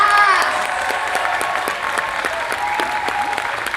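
A convention crowd at the German Weekend of Hell horror event applauds the Nightmare on Elm Street cast with a full, steady roar of clapping and cheering voices that fades slightly toward the end.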